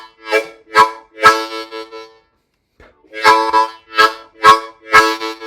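Harmonica playing a one chord boogie groove, inhaled chords on holes 1 through 3 with short breathy pulses, a group of rhythmic chord bursts, a brief pause, then another syncopated run of chords, close and alone.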